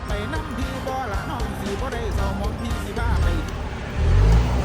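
The engine of a parked Isuzu FRR210 truck fitted with a Dinobox electric throttle revs in low rumbling surges that grow heavier toward the end, while someone talks over it.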